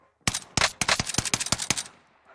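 Rapid automatic gunfire in the Warzone video game: several close, sharp bursts of shots in quick succession, loud and dry, then fading, with no talking.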